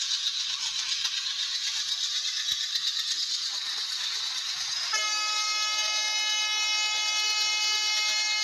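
Steady rolling rail noise from a train simulator video game hisses and rattles continuously, then a sustained horn-like tone joins in and holds to the end.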